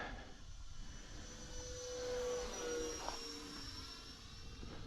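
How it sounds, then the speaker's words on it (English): A radio-controlled electric ducted fan model jet flies with a steady whining, buzzing drone that swells and fades slightly as it passes at a moderate distance. The sound is fairly faint, and no one speaks over it. "We're flying a jet."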